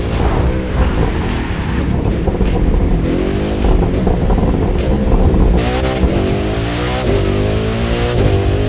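Racing game The Crew 2 with a Koenigsegg Jesko engine roaring steadily, pitch sweeping up and dropping at several rapid gear shifts, loud and close throughout without speech.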